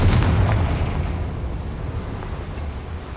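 A Confringo fire spell bursting in Hogwarts Legacy, one loud, close deep boom at the start that decays into a long rumbling tail, with no voices.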